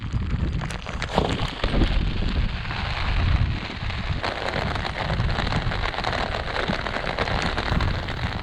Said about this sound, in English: It's now cold and rainy